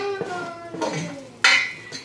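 A roux for turtle gumbo is stirred in a pot, giving a few close metallic scrapes and clinks of a spoon against the pot, under a faint ringing tone.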